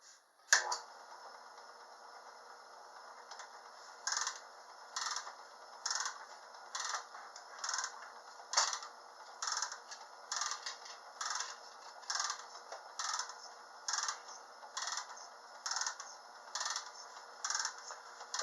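A lathe takes a slight cut off an Ertalyte plastic block, with a steady machine hum under regular, evenly spaced rhythmic pulses repeating about once a second.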